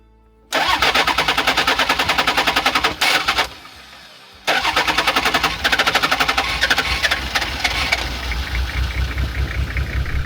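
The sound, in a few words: old diesel engine being cranked and spluttering into life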